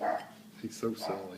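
A few short dog barks break through a person talking nearby, the barks sharp and moderately loud against the speech.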